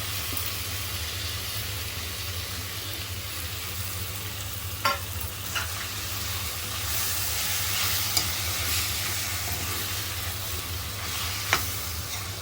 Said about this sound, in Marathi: ते वांग आपण मॅश केलेले आहे ते घालूया भाजलेलं वांग